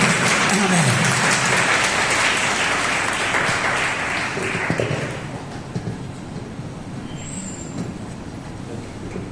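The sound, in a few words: congregation clapping to welcome pastors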